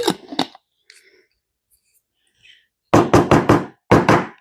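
A hand pounds the bottom of a 14-ounce jar of pizza sauce to shake out the last of it, several sharp hollow knocks in two quick bursts after a few lighter taps, loud and close, with no speech.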